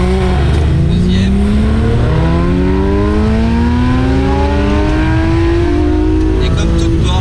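Porsche 997 GT3 RS with a 450-horsepower engine and PDK gearbox revving loud and close, pitch climbing in long sweeps through first and second gear, with a voice talking over it.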